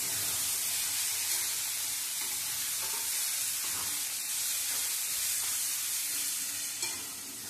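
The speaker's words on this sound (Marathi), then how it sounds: "आता मसाला टाकल्यानंतर पण आपल्याला मिनिटभर परतून घ्यायची" An onion-coconut masala is sautéed in a pan with a strong, unbroken sizzle and steady hiss, loud and close throughout with no voices.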